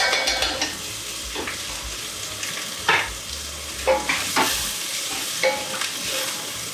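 Fresh crushed garlic cooks in a pot for a Hungarian beef goulash, a close, steady sizzle broken by several scraping stirs of a utensil against the pan.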